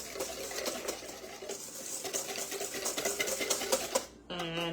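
A whisk beats ingredients for strawberry marmalade cookies in a bowl, making a fast, continuous patter of light clicks close up. A voice speaks briefly at the end.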